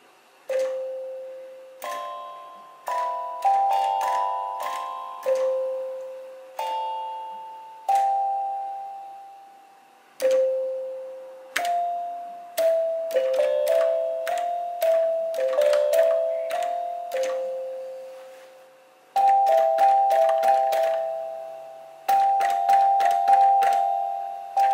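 Lego electric piano machine playing a song, a sequence of clear, bell-like struck tones, each sharp at onset and then decaying, forming a slow melody with gaps between phrases, with no talk.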